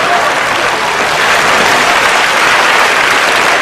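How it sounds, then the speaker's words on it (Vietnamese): Loud, steady applause from a studio audience at a Vietnamese New Year comedy television show, a thick, unbroken wash of clapping lasting several seconds. "chúng ta dành cho ông Rời một tràng vỗ tay"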